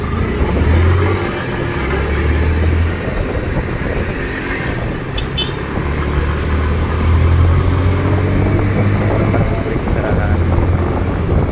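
A car engine running steadily while driving through city traffic, a low continuous drone with road and wind noise that swells and eases, heard beneath someone talking.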